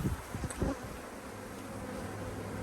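Honey bees swarming around a hive being split to prevent swarming, a dense continuous buzz with a few brief knocks and rustles near the start.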